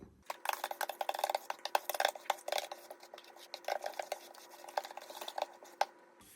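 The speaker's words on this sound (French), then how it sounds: "nos 50 centilitres de lait de coco et nos 120 g de coco râpé. Et on va venir mélanger tout ça." Coconut milk and grated coconut being stirred together in a bowl with coconut oil, a spoon scraping and clinking against the dish in quick, irregular strokes, close and fairly quiet with no talking.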